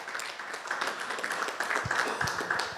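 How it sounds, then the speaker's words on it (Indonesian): A church congregation at a sermon claps together, a soft, steady wash of applause from many hands heard at a distance for several seconds. "Tepuk tangan buat Allah kita."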